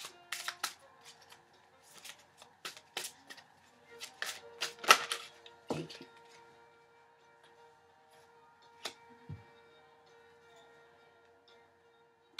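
Tarot cards being shuffled and handled, a quick burst of crisp flicking and tapping that thins out to a few scattered soft taps, quiet and close.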